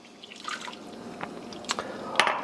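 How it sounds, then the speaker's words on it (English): Hot water being poured into a saucepan in a kitchen, soft quiet splashing and drips with a few brighter splashes toward the end, no voices. "Over here in the saucepan here, we're going to add 3/4 a cup of hot water"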